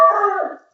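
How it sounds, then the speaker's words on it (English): A dog lets out a single short howl, loud and close, the pitch wavering and sliding down before fading out after about half a second, with no talk over it. "I don't know if that was Aaron or the dog"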